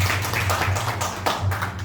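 Audience applause at an LTE team motivational gathering welcoming Ramadan, steady clapping from a crowd filling the room at moderate loudness throughout.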